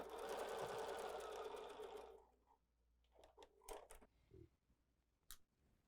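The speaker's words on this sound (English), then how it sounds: "I'm going to sew from this side so I can keep an eye on that seam and make sure that's not going anywhere." Sewing machine stitching a quilt seam, a close rapid whir lasting about two seconds before stopping, followed by quiet handling clicks and rustles of fabric.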